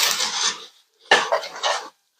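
Rice Krispies are stirred in a sprayed pan with the heat off, giving two bursts of dry scraping and rustling separated by a short pause.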